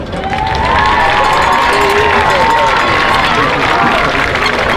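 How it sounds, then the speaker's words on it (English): A large high school graduation crowd roars with loud, sustained applause and cheering for the teachers, whoops and shouts riding over continuous massed clapping that swells quickly and holds at full volume. "So please face your teachers and give them a huge round of applause."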